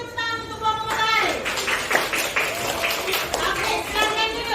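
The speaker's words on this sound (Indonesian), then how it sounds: "kita beri tepuk tangan untuk kelompok matahari" Schoolchildren in a classroom clap for a student group after a presentation, a lively burst of scattered clapping mixed with children's voices and a teacher speaking over it.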